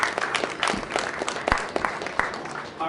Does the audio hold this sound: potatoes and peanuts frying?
no